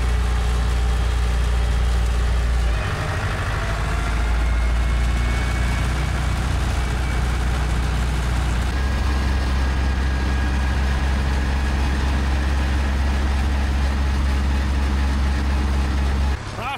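Massey Ferguson tractor idling after a cold start, a loud steady low diesel rumble that shifts pitch a couple of times and carries on, no talking.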